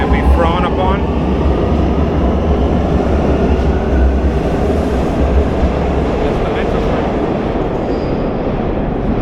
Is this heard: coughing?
no